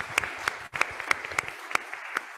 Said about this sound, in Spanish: Aplauso para...